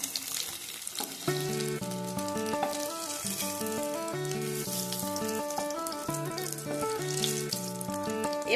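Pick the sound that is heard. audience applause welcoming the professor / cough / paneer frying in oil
paneer frying in oil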